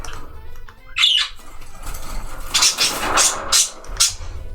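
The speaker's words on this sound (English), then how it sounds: "Some silly bird behavior happening over there." A bird squawks several times outdoors, loud harsh calls arriving in an uneven series of four or five bursts over a low background rumble.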